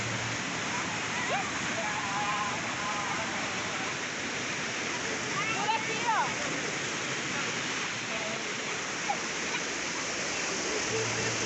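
The ASFRAMA waterfall beside highway BR-174 sends up a steady, full hiss of falling water that runs unbroken throughout, with faint voices now and then above the constant roar.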